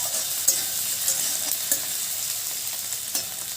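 Tomato and egg bhujia frying in a pan makes a steady close sizzle throughout, with light scraping clicks now and then as a utensil stirs the mixture.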